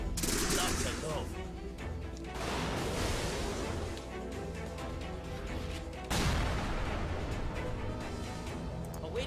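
Gunfire from units in the turn-based strategy game Tiny Metal, with dense, loud bursts of automatic shooting and blasts that come back in waves across about nine seconds, mixed with a voice and game sounds.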